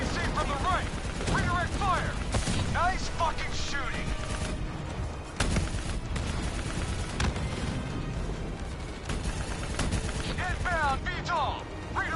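Gunfire rattles at a VTOL aircraft in the Black Ops 3 campaign, dense bursts of automatic shots and impacts mixed with game music and shouted voices, loud and continuous throughout.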